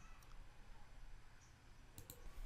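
A few sharp computer mouse clicks snap out close by against a faint room hiss, one early and a quick pair near the end.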